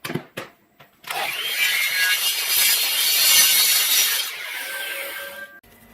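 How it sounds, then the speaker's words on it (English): A saw cuts a metal piece for a hydro handbrake bracket, a steady harsh high-pitched grinding rasp lasting several seconds after a few brief clunks, close and loud with no voices. "So I'll use that to cut the correct size piece on the saw"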